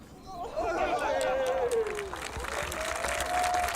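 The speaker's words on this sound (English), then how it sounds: "They are clapping" A crowd applauds and cheers after a student rocket launch at the EuRoC competition, while a voice talks over the steady clapping and excited chatter.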